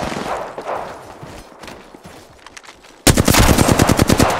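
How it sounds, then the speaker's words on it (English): Automatic gunfire in the battle royale video game Apex Legends, a faint distant rattle of shots for three seconds, then a sudden loud, close burst of rapid machine-gun fire. "Did I hear someone over there shooting, or what was that?"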